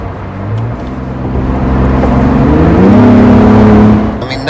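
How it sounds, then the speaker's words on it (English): Ford Bronco Raptor V6 racing engine accelerating hard, a loud rising whirring roar that climbs in pitch and builds to a sustained peak, heard alone with no talking. "I just wanted to test out if we can hear the sound of this engine. It's a V6, but it's a racing engine."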